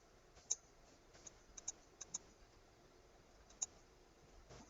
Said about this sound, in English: I'm hitting spacebar